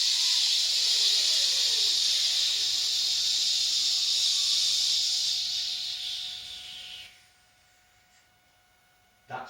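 Slow, steady exhalation through the teeth and lip making a sustained F sound, a long breathy hiss at close range that fades out after about seven seconds, followed by quiet.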